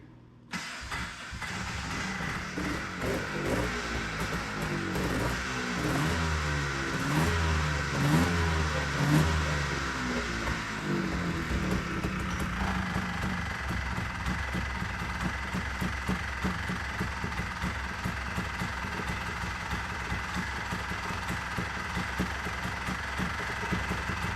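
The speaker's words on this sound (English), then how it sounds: "it started right up, and it seems to idle nice" A 1985 Honda Odyssey FL350R off-road buggy engine cranks and catches with choke applied, revs briefly, then settles into a steady, loud, continuous idle close by, with no voices.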